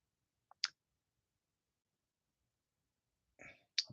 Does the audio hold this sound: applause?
no